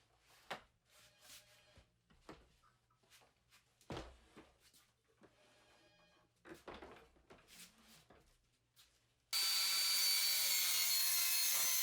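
Scattered knocks and handling sounds of wood and tools on a workbench build, then a loud, steady saw starts cutting through an 18 mm MDF board for a shelf and runs to the end.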